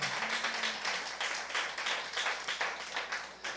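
A church congregation claps together at a Friday night prayer service, a steady dense patter of many hands at moderate volume with no talking.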